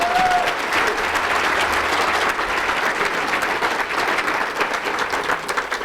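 Audience applause at a press conference, a dense, steady burst of clapping from a large crowd that holds at full level for about six seconds with no voices over it.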